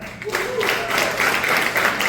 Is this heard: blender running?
no